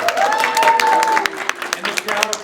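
A crowd applauding loudly and steadily at a script reading event, with dense clapping throughout and a tonal voice-like sound woven in at the start.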